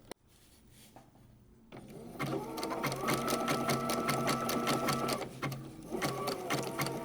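A sewing machine stitches quilt fabric on a vintage quilting project, starting after a quiet moment and then running in a steady, loud, rapid whir close by, with a brief dip near the end.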